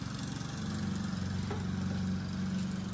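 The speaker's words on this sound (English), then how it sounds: "so you're going to hear mowers in the background" Lawn mowers drone continuously in the background on a sunny day, a steady low engine hum with no talking.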